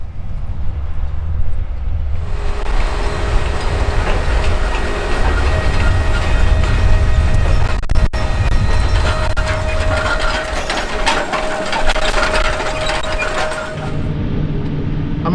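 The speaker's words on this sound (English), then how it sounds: "In the cab of the Case IH 620 QUADTRAC, and it's planting corn with a 2160 early riser planter" Inside the cab of a Case IH 620 QuadTrac tractor planting corn with a 24-row 2160 Early Riser planter, a steady loud mechanical drone with clicking, ratcheting rattles that swells after a couple of seconds and runs on continuously, no talk.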